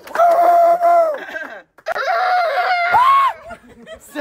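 A wedding singer in Italy mimics a village rooster's crow with her voice, two long loud warbling calls separated by a short pause, each rising and bending at the end, followed by faint chatter.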